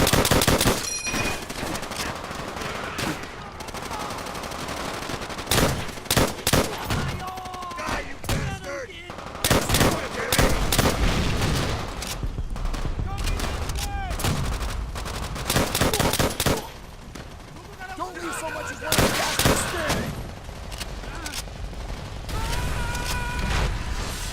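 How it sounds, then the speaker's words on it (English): Rapid bursts of automatic gunfire and single shots in a World at War video game ring out repeatedly, loud and close, with brief pauses and scattered mechanical clatter between volleys. "Gunfire right there."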